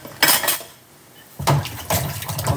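Dishes being hand-washed, with plates and pans clinking and clattering in two close, fairly loud bursts separated by a brief quiet pause.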